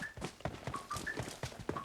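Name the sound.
footsteps in a video game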